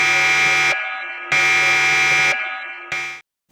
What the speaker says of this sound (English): isn't that the alarm for an escape?